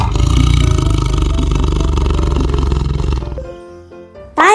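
A tiger gives a loud, deep, sustained roar close up, which fades over a few seconds before a brief sharp sound cuts in at the end.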